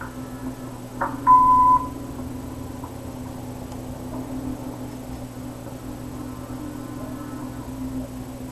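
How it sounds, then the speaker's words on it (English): A single short electronic answering machine beep in a video game sounds once, steady and clear, then only a quiet hum and faint ticks follow. "Leave a message after the beep"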